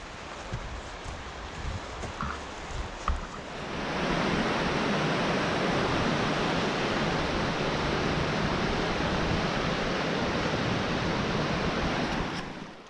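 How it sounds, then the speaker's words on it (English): Loud, steady roar of rushing water fills the scene after a quieter opening, a dense broadband wash that holds constant until the end. "And we're hearing lots and lots of water."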